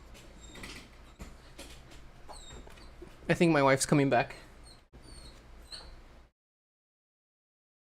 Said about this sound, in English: You can probably hear my my dog crying.